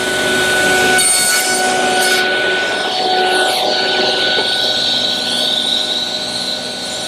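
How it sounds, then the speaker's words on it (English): A table saw cuts tenons on narrow wooden pieces held in a clamping tenoning jig, a loud steady whine and rasp as the blade bites through the wood, close and continuous without speech. "It has a clamp built into it so that it holds these narrow pieces securely as I push them through the saw blade"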